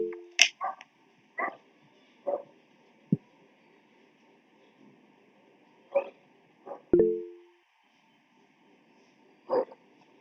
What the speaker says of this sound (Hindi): सब कुत्ता चिल्ला रहा था